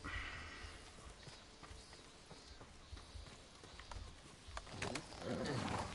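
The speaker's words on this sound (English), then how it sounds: "You're a good horse, Nobu." Rhythmic clip-clop of horse hooves at a walk in the video game Ghost of Tsushima, under a low ambient bed, with birds cooing faintly nearby.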